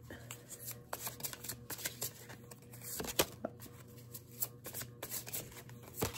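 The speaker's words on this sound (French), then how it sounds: "Je vais aller chercher 6 cartes, s'il vous plaît." Tarot cards are drawn one by one from a deck, producing soft, close papery slides, flicks and snaps in an irregular rhythm, with occasional faint speech.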